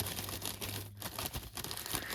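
A plastic bag holding frozen, broken-up tree resin crinkles and rustles continuously, close and dense, with brief lulls in the crackling.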